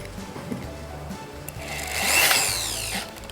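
A power drill whines steadily, rising into a louder, harsher grinding burst midway as the bit bites into ceramic tile at the grout line, then easing off.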